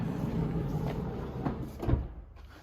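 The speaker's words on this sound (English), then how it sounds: "just pulls itself in with a soft closing mechanism" A power-latching sliding door on a 2021 Volkswagen Transporter T6.1 Kombi conversion is drawn shut by its soft-close mechanism, a muffled thud followed by a brief low mechanical pull-in, heard up close.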